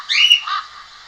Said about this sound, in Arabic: ببغاء. لا، ببغاء.